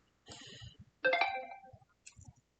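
A phone rings in short melodic bursts, loud and close, a couple of separate chimes with gaps of silence between them.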